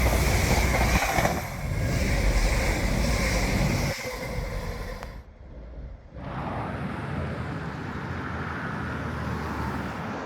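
A Tyne & Wear Metro train from Sunderland rumbles steadily along with a broad, loud onboard roar, then dips briefly before the running noise resumes at a constant level.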